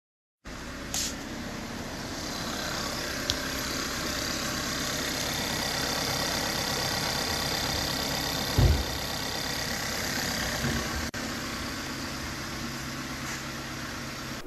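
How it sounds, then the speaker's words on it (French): A Volkswagen 1.4 TSI engine with a fault idles after starting, a steady, fairly quiet hum with light ticking, heard alone apart from a brief thump partway through. "le moteur démarré."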